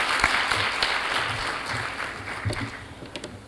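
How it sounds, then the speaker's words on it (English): An audience at an International Association of Women Judges gathering gives a round of applause to welcome a speaker, moderately close clapping that tapers slightly toward the end. "Please welcome her with a round of applause."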